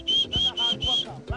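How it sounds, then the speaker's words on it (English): A person whistles to call crocodiles forward, giving four sustained high whistle notes in a rhythmic series with low thumps and faint background sounds between them. "we have this whistling sound we usually make to attract the crocodiles forward"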